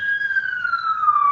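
A police car siren sweeps past in a steady descending wail with a bright overtone, loud and continuous over low background rumble, pitch falling slowly as the vehicle passes.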